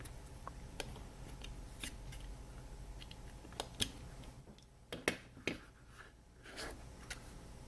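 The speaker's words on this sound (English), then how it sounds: "Just cut it out of paper." Scissors snip through paper in short, sharp, close cuts, scattered irregularly with brief pauses between clusters of snips.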